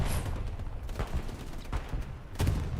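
Machine gun fire in the World War II game Hell Let Loose on the Remagen Ludendorff Bridge map: dense, continuous distant bursts of gunfire with sharp louder shots cutting through the rolling battle noise.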